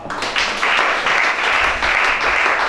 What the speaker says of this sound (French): Acclame Shaddai.